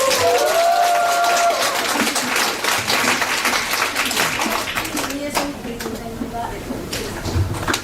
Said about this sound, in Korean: 오실 때 큰 박수 부탁드릴게요